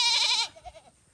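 In a village, one goat gives a loud close bleat, followed by a few fainter wavering bleats that fade out within about a second.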